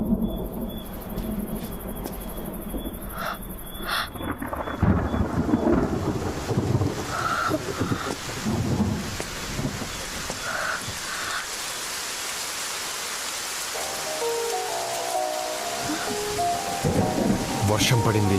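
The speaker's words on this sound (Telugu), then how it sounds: "వర్షం పడింది" Rain falls steadily while thunder rumbles and cracks, with crickets chirping faintly in the background, and no one speaks.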